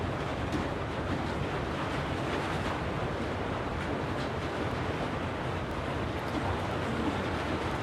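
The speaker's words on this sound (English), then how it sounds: "All that noise you're hearing is like rain and hail" Rain and hail pounding during a severe thunderstorm, a dense, continuous, loud roar of broadband noise without pause.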